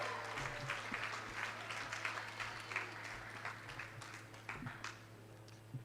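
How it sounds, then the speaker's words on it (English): An audience at a chamber of commerce evening event claps steadily throughout, a dense continuous applause over a low steady hum, with no clear talk. "applaud yourselves"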